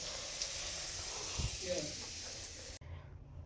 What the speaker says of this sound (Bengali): মাছের ডিমটা ভেজে রাখছি